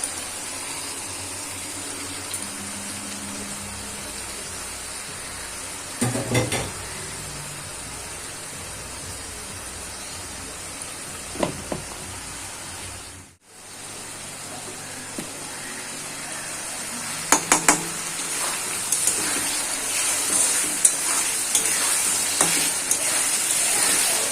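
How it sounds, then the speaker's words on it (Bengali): Minced mutton frying in oil with garlic, onion and tomato: a quiet, steady sizzle with a few louder bursts of stirring and scraping, a brief dip midway, then the sizzle grows a little livelier. "এইবার আমি দিয়ে দেব এই যে কিমাটা।"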